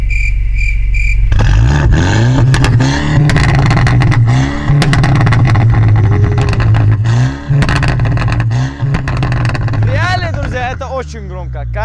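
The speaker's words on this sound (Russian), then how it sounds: "Тут самое прикольное, друзья, это выхлоп попкорн." A BMW M5 with a 6.3-litre engine revs hard and loud close by, its exhaust crackling and popping between blips in a continuous, aggressive sequence, with people talking over it.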